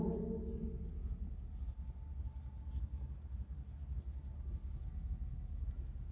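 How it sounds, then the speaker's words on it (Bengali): Faint, scratchy strokes of names being written on a board during a physiology lecture, heard as soft repeated bursts over a steady low room rumble. "আমরা একে একে নামগুলি লিখি।"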